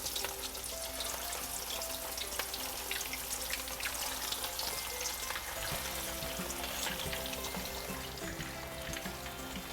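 Meatballs sizzle and pop steadily in hot, bubbling oil in a pan, a continuous dense frying hiss with crackles throughout, with a faint low hum beneath and no talking.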